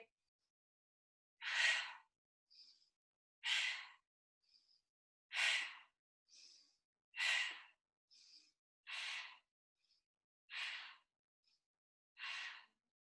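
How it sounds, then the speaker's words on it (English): Deep breaths drawn into the belly during a yoga stretch in an online class: seven loud, breathy exhalations recur at a steady pace about every two seconds, with softer inhalations between them and no talking. "So if you listen to the breath, first of all"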